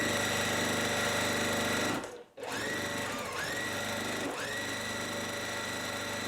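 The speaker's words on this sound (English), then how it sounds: "I'm going to bring this over here and I'm going to sew." A sewing machine runs steadily, stitching fabric for a strawberry quilt block. The loud, close motor hum dips briefly in the middle and then carries on without talk.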